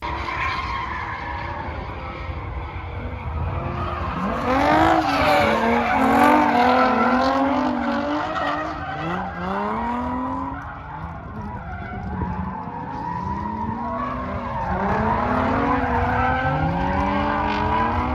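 A stock New Edge Mustang's revving engine roars in first gear as tires squeal and skid in long sweeping wails, rising and falling repeatedly during sustained drifting in a parking lot.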